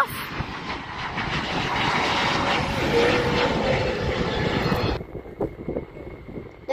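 An Asiana Airlines airliner takes off at Honolulu airport, its engines roaring loudly and steadily nearby before the noise drops off abruptly, leaving quieter background rumble.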